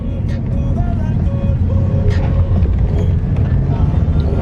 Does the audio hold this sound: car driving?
yes